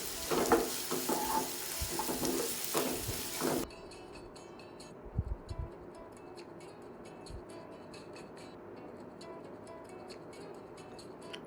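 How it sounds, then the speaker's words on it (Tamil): Chopped large onion with ginger garlic paste sautéing in a pan for a dhaba-style paneer masala, a steady soft sizzle with occasional stirring clinks, louder at first and then settling into a quieter frying hiss. "2 டீஸ்பூன் இஞ்சி பூண்டு பேஸ்ட் சேர்த்து நல்லா வதக்கிக்கலாம்."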